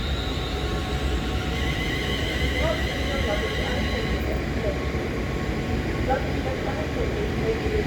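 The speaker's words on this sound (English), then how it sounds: "Now we have the freight train that was just at a red signal, and also the London North Western Railway 350 Desiro." A freight train and a London Northwestern Railway Class 350 Desiro electric unit pass through Stafford station on the West Coast Main Line, giving a steady, loud rolling rumble with faint high whines layered over it.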